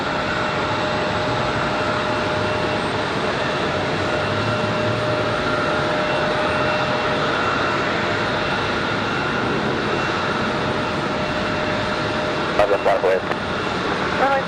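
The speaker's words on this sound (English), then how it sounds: "This one, the Delta CRJ 900." A Delta CRJ 900 regional jet at Raleigh-Durham International Airport gives a steady, loud engine roar that holds for the whole stretch, with a brief burst of radio chatter near the end.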